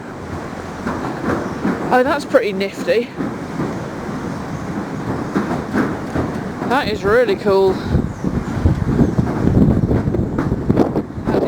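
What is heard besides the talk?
Southend pier train passing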